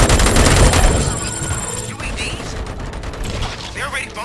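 Rapid bursts of gunfire and booming shots in the video game RoboCop: Rogue City dominate at first, then fade into mechanical clatter and scattered effects.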